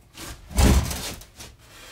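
A hand tool bites into wood while carving material out of a wall-art panel, heard as one brief rough scraping stroke that swells and fades, with a fainter rub afterward.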